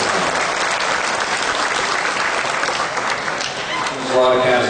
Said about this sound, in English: we should have a big round of applause for these 4-H members here